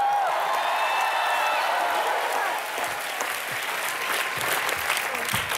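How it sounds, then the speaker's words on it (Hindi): Studio audience applause on the comedy show Comedy Nights With Kapil, a loud, sustained burst of many hands clapping with some cheering mixed in and faint tonal music or voices underneath. "चलो तालियां।"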